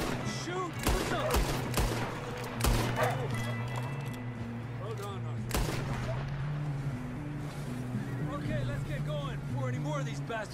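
Scattered gunshots in a Red Dead Redemption 2 shootout, several sharp reports early on, then a lone shot later, over a steady low rumble with voices and other game sounds in the mix.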